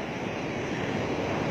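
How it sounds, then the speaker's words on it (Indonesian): High sea waves crashing on a southern beach where shoreline stalls are being battered, a loud continuous broadband roar of surf and wind filling the short stretch with no voices. "ombak akibat gelombang tinggi"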